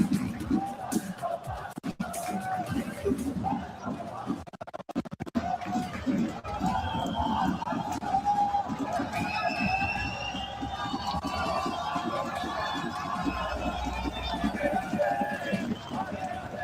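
Arena crowd at the Rocket League EWC grand finals makes a constant loud roar and rumble, with commentators talking over it throughout.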